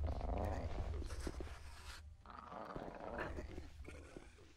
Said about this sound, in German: Und ich höre was knurren.